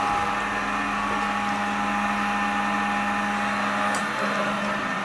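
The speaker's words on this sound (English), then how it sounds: "As you can see, the X motor is turning and bringing the carriage" A Mach3-controlled CNC machine's X-axis stepper motor drives the carriage along, giving a steady whining drone with a constant tonal hum, continuous and fairly close throughout.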